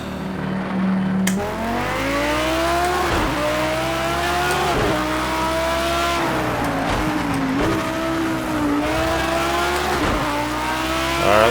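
A race car in the Project CARS 2 driving game weaves to heat its tires, its engine revving steadily and loud with rising and falling pitch sweeps, gear shifts and brief tire scrub across the whole stretch.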